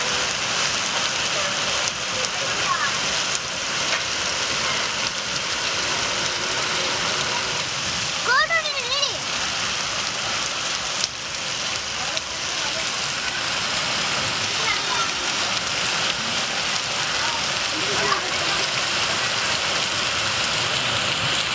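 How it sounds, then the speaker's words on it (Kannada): Rain pouring down steadily in Kushtagi town, a broad continuous hiss of drops on surfaces, loud and even throughout, with a brief passing vehicle sound partway through. "ಕುಷ್ಟಗಿ ಪಟ್ಟಣ ಸೇರಿ ತಾಲೂಕಿನ ಹಲವೆಡೆ ಮಳೆ ಸುರಿದಿದೆ"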